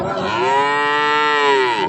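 A nine-month-old calf moos loudly and close at a cattle market, one long sustained low call lasting nearly two seconds.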